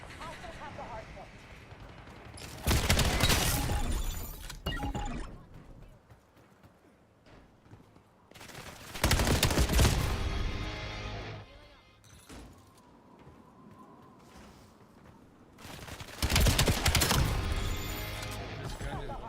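Rapid automatic gunfire in Call of Duty: Black Ops 7 multiplayer comes in three loud, dense bursts of a few seconds each, with quieter game ambience and voices between them.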